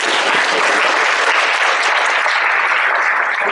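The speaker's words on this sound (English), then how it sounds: "Applause is okay." An audience at a fall awards ceremony claps steadily, a dense, loud, even wash of applause sustained throughout with no voices standing out.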